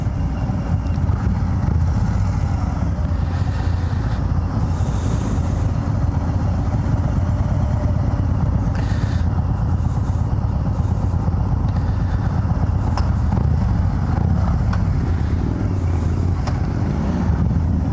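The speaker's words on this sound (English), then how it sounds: "test ride one of these Road King specials" A 2019 Harley-Davidson Road King Special on a test ride, its engine rumbling steadily and loudly throughout with constant wind noise and no break in the drone.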